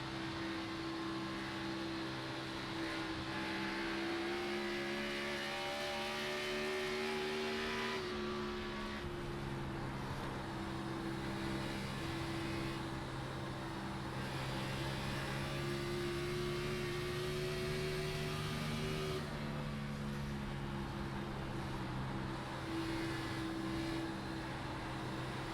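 Race car engines from a virtual racing game at Dover drone on continuously, with throttle blips and shifts in pitch against a dense, steady background roar.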